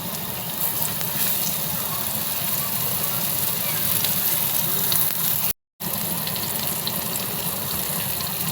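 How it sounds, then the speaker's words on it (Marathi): Fish coated in semolina, flour and masala fries in oil on a hot tawa, producing a constant dense sizzle and crackle at close range, broken once by a short gap. "मच्छी फ्राय होते आहे तोपर्यंत कालवणाचं बघते."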